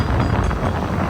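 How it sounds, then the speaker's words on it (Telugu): Strong wind buffeting the microphone in a steady, loud roar, with a faint watery wash of waves beneath it, on the coast at Thiruvananthapuram, Kerala. "గాలి చాలా ఎక్కువ వస్తుంది"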